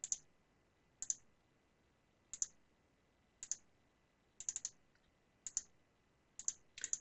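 Crisp mouse clicks, mostly in quick double pairs, repeat at roughly one-second intervals in a quiet room, close and dry with no voices.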